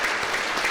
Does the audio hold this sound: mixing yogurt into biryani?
no